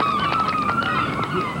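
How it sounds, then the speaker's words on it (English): Gulls calling over a seaside golf course during the 1992 Open Championship, several overlapping honking cries rising and falling against a steady murmur of outdoor crowd ambience. "He's got the gulls carrying on out there, too."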